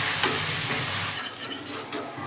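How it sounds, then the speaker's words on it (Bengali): Butter garlic chicken frying over medium heat in a pan, giving a steady close sizzle with a few stirring scrapes and spatters, no voices. "মিডিয়াম করে চিকেনটাকে খুব ভালো করে আমি ফ্রাই করে নেব"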